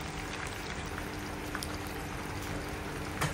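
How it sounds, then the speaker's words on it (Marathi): Prawns fry in a pan with garlic, chilli, ginger and capsicum, giving off a steady, even sizzle with a soft bubbling crackle that stays constant throughout, with no one speaking. "बघा प्रॉन्स देखील आता सुंदर फ्राय झालेले आहेत"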